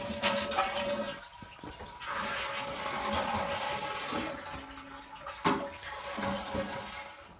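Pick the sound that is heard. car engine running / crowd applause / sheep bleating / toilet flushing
toilet flushing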